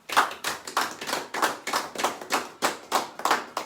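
A church congregation at a special worship service claps in a steady rhythm, about a dozen even, full-bodied claps of many hands, no talk.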